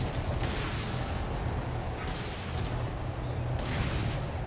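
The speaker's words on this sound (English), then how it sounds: "'Cause that explosion was wow." Explosions and gunfire rumble through a battle in the video game Warhammer 40K: Space Marine Master Crafted Edition, a dense, continuous roar of blasts and shots with no one speaking.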